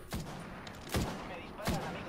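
Gunshots from enemies ring out in the Batman Arkham Origins video game: three separate sharp cracks, evenly spaced roughly three-quarters of a second apart, moderately loud over a steady background hum.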